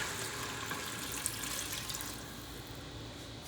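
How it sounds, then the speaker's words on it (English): Broth pours steadily into a pot for butternut squash soup, making a continuous close, watery splashing rush that stays fairly even and soft throughout. "we are going to add in 2 cups of beef broth and 2 cups of vegetable broth."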